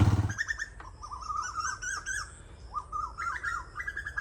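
Koels call repeatedly in a guava orchard, several birds trading rising whistled notes in quick overlapping bursts, fairly close and clear over a soft outdoor background.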